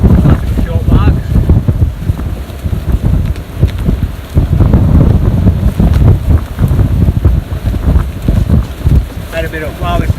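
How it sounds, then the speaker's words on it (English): Strong coastal wind buffets the microphone at a beach during outdoor painting, a constant low rumbling roar with gusty swells throughout, with brief faint voice sounds near the end. "well, this is windy"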